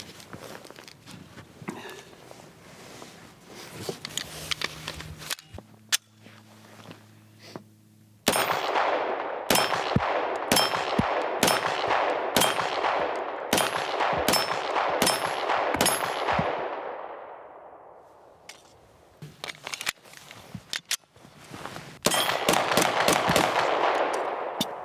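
Walther PDP pistol fired at a shooting range, a rapid series of loud, sharp cracks in quick succession with ringing echoes, preceded by quieter handling clicks and a low hum, with more shots near the end.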